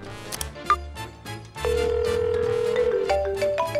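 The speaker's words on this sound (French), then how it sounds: "j'ai oublié de mettre mon téléphone en silencieux. Est-ce que je viens d'entendre une sonnerie?" A mobile phone ringtone rings loudly and close, a bright electronic melody of sustained tones that starts after a few short notes and carries on without talk.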